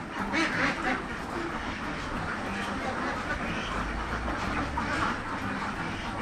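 Ducks on a poultry farm raising egg-laying ducks: dense, continuous quacking from many birds at once, fairly loud and close, over a steady background din.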